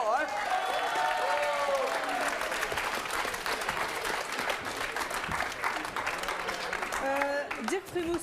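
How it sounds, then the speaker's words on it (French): Steady audience applause fills a French television talk-show studio, dense and loud, with cheers and voices mixed into the clapping throughout. "Alors là, il mérite un applaudissement,"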